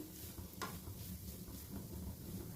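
Grated coconut being dry-roasted in a pan for coconut barfi, a quiet soft sizzle with light stirring scrapes and one brief clink against the pan, faint and close with no speech.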